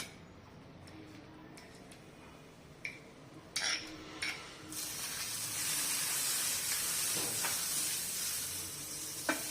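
Butter sizzling and hissing as it melts on a hot griddle pan while veg cutlets are prepared, a soft steady fry that swells after a few light utensil clicks and taps.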